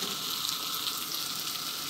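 Tomato sizzling as it goes into tolma filling frying in a pan, a steady bright hiss and crackle that is close and even throughout, with no voices.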